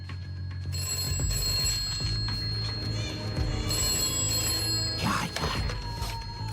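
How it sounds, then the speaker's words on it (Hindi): A telephone bell rings in repeated electronic bursts, fairly close, with brief pauses between rings and some background movement. "जल्दी से फोन उठाओ ना।"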